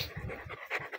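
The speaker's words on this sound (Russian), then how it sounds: "Мои собаки." Several dogs panting close by, quick rhythmic breaths in short bursts over about a second, with brief louder gasps near the end.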